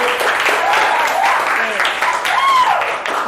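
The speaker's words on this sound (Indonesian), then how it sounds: "Jadi tepuk tangan buat Darwin." Classroom applause for a student during a poetry lesson, steady clapping from a group of students that is mixed with talking voices throughout.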